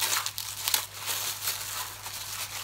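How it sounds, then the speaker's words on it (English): Birthday gift being unwrapped, its wrapping paper crinkling and rustling in soft, irregular bursts, close and fairly quiet with no talk. "Just unwrapping."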